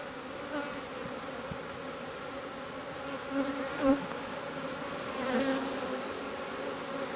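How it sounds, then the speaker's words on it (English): Honey bees in an Apimaye hive produce a steady, close-up buzzing drone that holds for several seconds, with a few louder swells as individual bees pass near, and no one speaking. "These are all nurse bees attending to the babies. keeping the hive clean"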